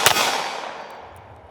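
A single sharp report from a Smith & Wesson M&P 5.7 pistol, loud and close, followed by a long ringing decay that fades over about a second and a half.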